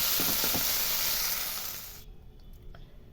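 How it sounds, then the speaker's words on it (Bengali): Prawns frying in hot oil give a loud, steady sizzle close by for about two seconds, then it cuts off to near silence with a few faint clicks. "চিংড়ি মাছ ভাজা তেলের মধ্যেই"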